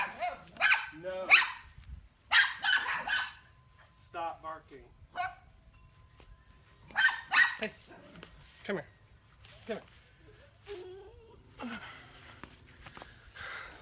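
Dogs barking outdoors, several short barks and yips heard at a distance beneath a person speaking calmly at length.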